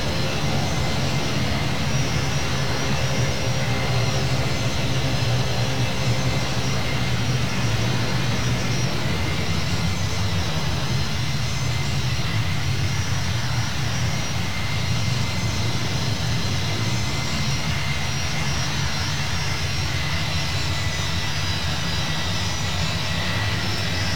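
Boeing 757-200 jet engines roar steadily during takeoff in a flight simulator game, a loud, unbroken, broadband rumble and whine holding for the whole stretch with no voices.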